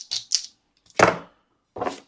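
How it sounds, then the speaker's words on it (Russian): Thick metal washers from a budget cordless angle grinder kit clink and clatter as they are handled, giving three separate bursts of metallic rattling with short silent pauses between them and no talk. "Здесь хорошие толстые шайбы."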